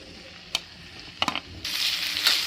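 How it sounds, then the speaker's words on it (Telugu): Cut okra goes into a little hot oil in a pan on the stove. A few sharp clinks come first, then a sudden, steady, close sizzle takes over and holds. "స్టవ్ ఆన్ చేసి ప్యాన్ పెట్టి కొద్దిగా ఆయిల్ వేసి కట్ చేసుకున్నటువంటి బెండకాయల్ని వేయించుకుందాం"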